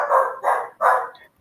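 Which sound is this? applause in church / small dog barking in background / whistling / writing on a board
small dog barking in background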